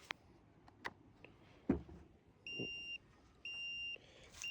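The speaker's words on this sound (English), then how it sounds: "So that is beeping because right now it can't level itself." A self-leveling DOVOH laser level gives two sustained electronic beeps, each about half a second, signalling it cannot level itself, clear against a quiet outdoor field background with a few faint knocks before them.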